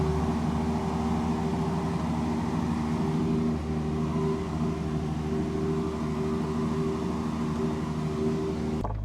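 A Ferrari engine drones loud and steady on the streets of Paris, a constant low rumble holding for several seconds before it drops away at the very end.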